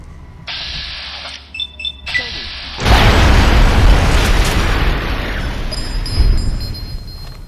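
In the Fallout: New Vegas video game, a steady electronic tone and a few beeps give way to a loud, sustained blast and roar that rumbles on for several seconds at full volume.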